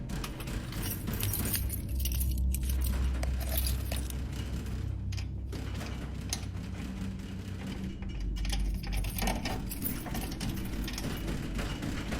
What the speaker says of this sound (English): rushing to unlock the front door with his keys